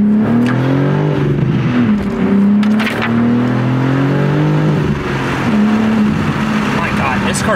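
A BMW M car fitted with an M Performance exhaust pulls hard in first gear, its loud engine note rising and dipping through several surges while someone talks over it.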